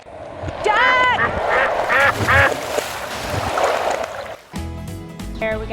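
A duck gives a short series of loud nasal quacks in woods along a biking trail beside running water. A person's voice and rustling come in near the end.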